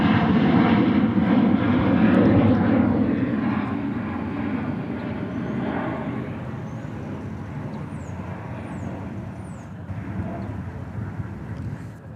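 Jet aircraft departing DFW airport, a broad roar that peaks early and slowly fades, steady and loud throughout with no talk.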